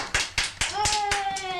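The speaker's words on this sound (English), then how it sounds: "Spontaneous applause has been known to break out at the competition" Spontaneous applause after a card magic trick: a handful of sharp, close hand claps in quick rhythm, overlapped by excited children's voices talking.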